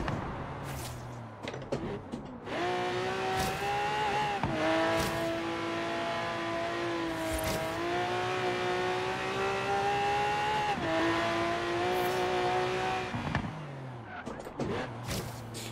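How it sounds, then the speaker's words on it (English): A supercar in Forza Horizon 3 roars at sustained high revs on track, its pitch stepping down and up through quick gear changes with throttle blips on downshifts, loud and continuous with a few short gaps. "I throttle blip when I downshift, just because my feet are used to it in real life"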